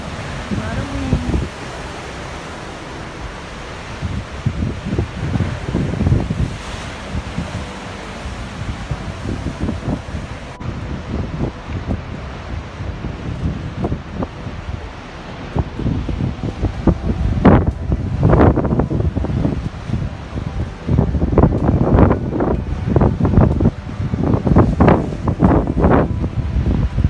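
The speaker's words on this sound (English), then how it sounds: "it's quite windy. It's gonna be difficult. It's gonna be a lot of noise in the video." Strong gusty wind at a beach in the Algarve, Portugal, in winter buffets the microphone, roaring and rumbling in uneven bursts that grow heavier toward the end, with a low surf-like hiss beneath.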